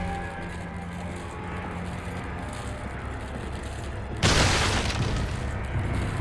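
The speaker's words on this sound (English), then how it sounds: "Double headshot, I'll take that." Gunfire striking Ganado villagers in Resident Evil 4, heard as a single sharp, loud burst that breaks into a low ambient game background late in the clip and leaves a short ringing tail.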